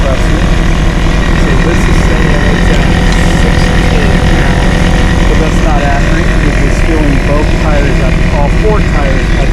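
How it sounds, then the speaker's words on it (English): Twin air compressors run together nearby, a loud, steady mechanical drone with constant motor hum and rattling pulses filling the whole stretch without a break, while a person speaks over it. "Both of them are running. That's probably a little quieter than my compressor."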